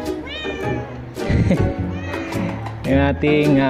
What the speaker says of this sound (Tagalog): Ito, kahit saan tayo, nandito itong ating pusa.